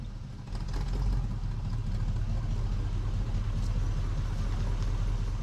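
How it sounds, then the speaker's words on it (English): A 1972 Chevy LUV pickup idles with worn glass pack mufflers, giving a steady, close, raspy low rumble that stays even throughout. "Those old glass packs are really starting to sound raspy."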